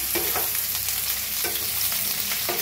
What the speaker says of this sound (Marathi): छान भाजूया भेंडी। बघू शकताय तुम्ही किती छान भाजायला लागली भेंडी आपली।